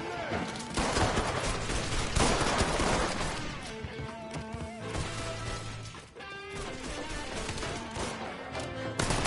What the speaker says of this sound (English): while he's shooting those guys